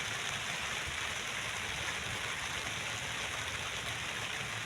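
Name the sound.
rain falling at a construction site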